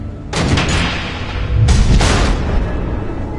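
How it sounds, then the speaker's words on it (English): Missiles exploding in Batman: The Enemy Within, two loud close blasts about a second apart, each a sharp burst that trails off into rumbling debris. "The missiles."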